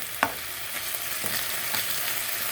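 Beef steak fries with onion in a pan over high flame, making a loud, steady sizzle. A few sharp stirring scrapes come near the start, and no one speaks.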